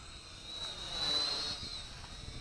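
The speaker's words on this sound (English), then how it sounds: "I did want to like this quadcopter because it looks real cool. And now it flies real cool." A Syma X5C micro quadcopter on a 350 mAh battery flies with a steady, thin, high-pitched whine that swells slightly in the middle and stays moderately close.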